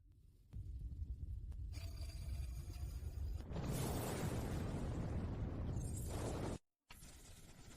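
A missile launched from a warship detonates in a loud, sustained roar of broadband noise that swells and holds for several seconds before cutting off abruptly, over a continuous low rumble.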